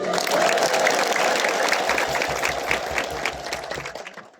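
A church congregation at a feast-day service applauds loudly and steadily, a dense, sustained crowd clapping with a faint high wavering tone that could be ululation, gradually thinning toward the end.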